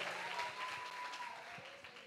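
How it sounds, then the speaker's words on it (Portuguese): A church congregation applauds during a service, a steady wash of many hands clapping at a moderate distance, fairly faint and continuous, with a few voices mixed in. "Vamos aplaudir ao Senhor."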